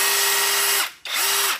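An electric drill with a one-piece motor and plain and hammer modes is run in two close bursts: a steady high whine winds down, pauses briefly, then revs up again and runs before tapering off.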